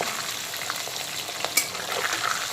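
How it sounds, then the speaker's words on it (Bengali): Pabda fish fried in hot oil and carefully turned over, a steady close sizzle with a few sharp spatter crackles and a brief clatter as the pieces flip, no voices. "এখন মাছগুলোকে একটু সাবধানে আমি উল্টো করে দিচ্ছি।"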